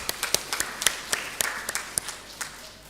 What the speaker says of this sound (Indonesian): Tepuk tangan buat Ibu Lili Salurapa.